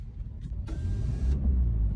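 A car rolling along a road, a steady low engine and tyre rumble that swells slightly louder toward the end, with a brief whirring sound partway through and no talking.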